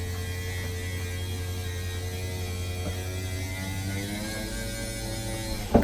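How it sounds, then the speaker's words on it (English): Steady electric motor hum, a constant mid-level drone pushing a part out, running alone with a faint mechanical clatter near the end. "the motor that's actually pushing this thing out"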